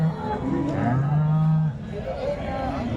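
A cow at the Sangola cattle market lets out one long, loud, low moo close by, with crowd chatter and other market noise around it.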